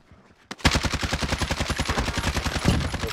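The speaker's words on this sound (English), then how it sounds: "We're getting sniped at." Rapid bursts of sniper and automatic gunfire from the Warzone video game crack close and loud in a fast, regular rhythm, starting abruptly after a brief quiet moment.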